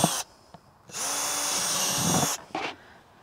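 Power drill boring drainage holes in a plant pot for tomatoes: a short whir, then a sustained loud grinding burst of about a second and a half, followed by one more brief spin-up.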